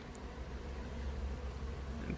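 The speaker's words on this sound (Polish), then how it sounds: "Pszczoły wracają tutaj, jak widać, z pyłkiem." Faint, soft buzzing of honey bees returning with pollen drifts under low background noise among lime trees, a steady hum with an occasional insect passing nearby.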